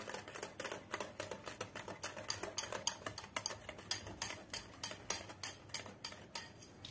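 Vanilla essence being stirred into eggless banana cake batter with curd in a bowl, a steady run of close, quick tapping and scraping clicks of a utensil against the bowl, with no talking.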